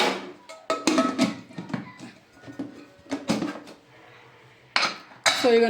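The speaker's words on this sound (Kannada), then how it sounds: "ಸೊ ಈಗ ನಾವು ಕುಕ್ಕರ್ ಲಿಡ್ನ ಕ್ಲೋಸ್ ಮಾಡಿಕೊಂಡು" A pressure cooker lid is handled and closed in a home kitchen, with a series of sharp metallic clanks and clatters at irregular intervals, close and fairly loud, separated by brief quiet gaps.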